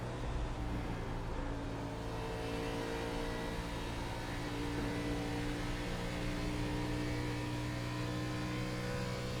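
Race car engine in the iRacing sim at Auto Club, a steady loud droning hum with layered harmonic tones, held at near-constant pitch through a shallow corner entry with no talk over it.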